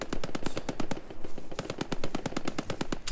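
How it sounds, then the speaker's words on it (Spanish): Rapid gunfire in the World War II shooter Post Scriptum: a near, loud string of automatic bursts with a short pause in the middle, then more fast shots, heard alone without talk. "Los disparos, lo cerca que parece que están cuando están en la otra punta"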